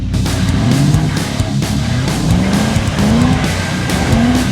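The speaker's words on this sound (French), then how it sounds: "Juste mets des petits coups de gaz, tranquille. Accélère, voilà, vas-y!" A tuned BMW car's engine revs in short throttle blips, rising and falling several times in a loud, close, steady sequence with no talk.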